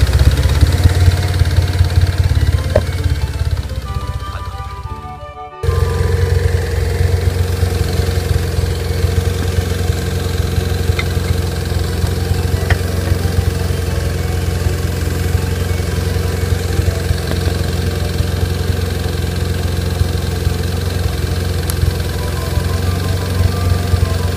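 A motorcycle engine idles steadily up close during idle speed adjustment, a continuous low rumble that dips briefly near the middle before settling back to an even idle.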